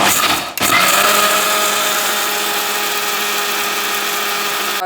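An electric wet grinder churns idli and dosa batter with a loud, steady whir that holds constant after a brief stop near the start, with no talking over it.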